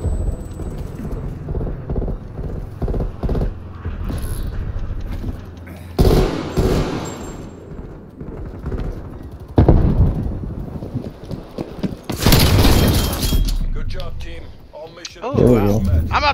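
Gunfire in Call of Duty Black Ops Cold War, with loud bursts of shots and explosive blasts scattered among game effects, while players talk over the action.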